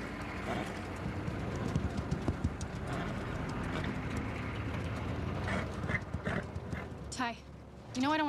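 Horse hooves clip-clop among mechanical clanks while people talk, and a horse whinnies loudly near the end.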